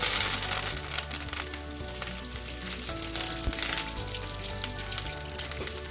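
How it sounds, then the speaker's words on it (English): Fresh curry leaves sizzling and crackling in hot oil in a pan, a dense, close frying hiss with sharp pops and spatters scattered throughout. "So now that it started popping, in goes our curry leaves"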